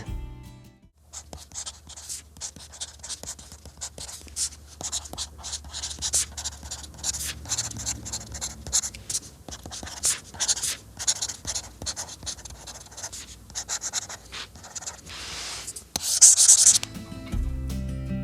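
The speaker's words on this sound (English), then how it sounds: "You actually get an audible response when writing on the device, and it just sounds fantastic" Close-up scratchy strokes of a stylus writing on a Kindle Scribe e-ink tablet screen, irregular bursts of rubbing and tapping like pen on paper.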